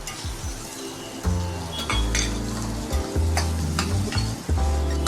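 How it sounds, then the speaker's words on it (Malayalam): Onions hitting hot oil in a kadai for chicken tikka masala, a loud steady sizzle with metal clinks and scraping from stirring throughout, close and busy. "സവാള ആഡ് ചെയ്ത് കൊടുക്കാം."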